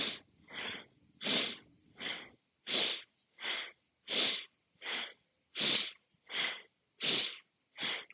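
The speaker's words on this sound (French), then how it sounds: "Bastrika, on appelle ça la technique du soufflet." Bhastrika bellows breathing, the rapid, forceful yogic breath that works the ribcage like a bellows. About a dozen loud, close, rushing breaths come in an even rhythm, each separated by a brief pause.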